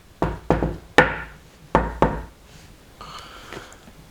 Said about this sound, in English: you should knock on the door first